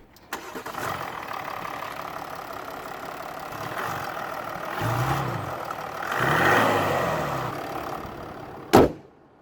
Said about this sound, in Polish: Tak ten diesel pracuje.